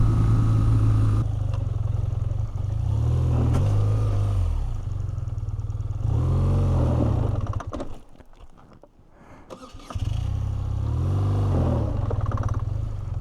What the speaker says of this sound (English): There's kind of an example of the motor being not too tractable down on the low end.